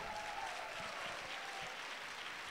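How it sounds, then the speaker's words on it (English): An audience claps steadily after a speaker's stage introduction, a broad continuous wash of applause from a crowd that stays fairly faint and even throughout, with no voices over it. "I want all of you guys to clap when I do my intro"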